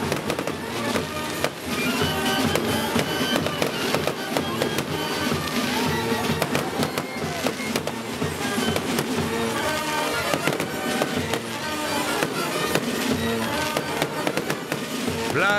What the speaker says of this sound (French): Place aux feux d'artifice et au plus outre qui s'illumine pour le final.